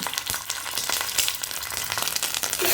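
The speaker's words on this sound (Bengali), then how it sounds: "আদাটা খুব ফাটছে ওই জন্য একটু নুন দিয়ে দেবো যাতে আর ফাটাটা একটু বন্ধ হয়" Ginger paste fries in hot oil with pancha phoron spices for a pumpkin chhakka, crackling and spattering in dense, irregular pops over a constant sizzle, close and fairly loud with no talking.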